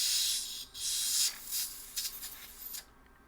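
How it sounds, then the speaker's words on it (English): Compressed air from a compressor hisses from a nozzle in several short blasts onto a paintball marker solenoid's gasket surface, loud and close, before cutting off into quiet. "a quick little spray with our compressor"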